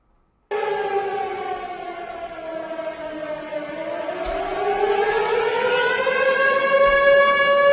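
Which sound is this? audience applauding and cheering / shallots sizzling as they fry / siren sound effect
siren sound effect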